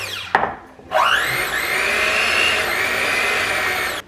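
An electric mixer whirs steadily, beating tres leches cake batter of eggs and sugar until pale yellow. It starts after a sharp knock and runs loud and close with a high motor whine until it cuts off at the end.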